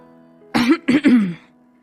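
A few short, throaty coughs in quick succession, close and fairly loud, with quiet around them.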